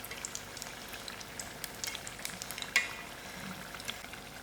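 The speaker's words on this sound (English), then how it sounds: "My oil has cooled down a little and it's going to continue frying." Patha rolls frying in oil in a pan, a steady soft crackle and sizzle with scattered small pops, close up and fairly quiet, no voices.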